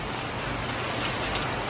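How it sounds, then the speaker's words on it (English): Steady rain falling outdoors while the listener stays under cover, a soft even hiss of drops with no break, fairly faint and close. "It just started raining, so I figured I'd document"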